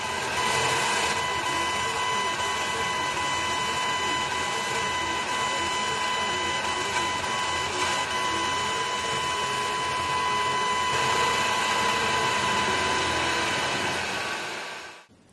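An Atomstack A30 Pro laser cutter cuts through a 4mm MDF plate, with a loud, continuous mechanical whir, a steady high whine and fan noise running throughout before fading at the end, with no speech.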